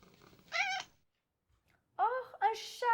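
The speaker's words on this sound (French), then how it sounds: "Voici un chat!" A cat meows in two bursts, first a short call, then after a pause a longer run of higher, rising meows, fairly close and clear with no talking over it.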